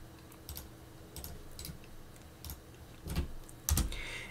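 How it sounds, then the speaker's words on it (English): Someone types a command into a Linux terminal on a computer keyboard, producing scattered soft key clicks that build into a few louder presses near the end, close by and quiet. "we need to open a terminal and we need to type this"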